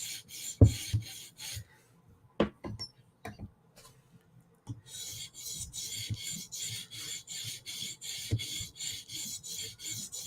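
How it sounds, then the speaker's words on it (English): A knife drawn across a 400 grit sharpening stone to raise a burr, heard as a few separate scrapes and then a steady run of rhythmic rasping strokes, close and fairly quiet. "Okay, one more pass at 400 grit,"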